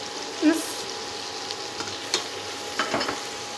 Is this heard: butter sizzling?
yes